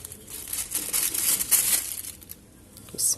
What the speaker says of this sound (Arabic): ومعايا كيس تلاجة